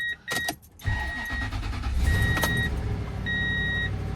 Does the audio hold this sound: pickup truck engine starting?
yes